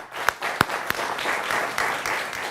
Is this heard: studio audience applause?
yes